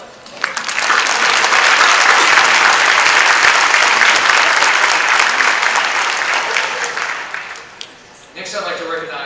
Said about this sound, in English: we'll give her a round of applause